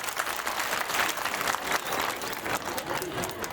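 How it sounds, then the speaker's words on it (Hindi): Steady, dense applause from a crowd, sustained clapping throughout with no voices standing out. "आप लोगों के लिए जोरदार तालियां बजनी चाहिए।"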